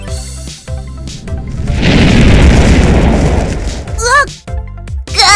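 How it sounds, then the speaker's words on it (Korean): A loud cartoon volcano eruption erupts from a mountain top, a deep rumbling boom that swells and holds for a few seconds, bracketed by bright cartoon music and effects. "벌써 폭발할 때가 됐었나?"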